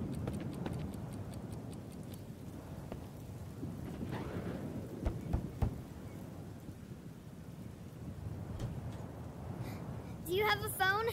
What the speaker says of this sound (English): The hard rain drowned out my howling.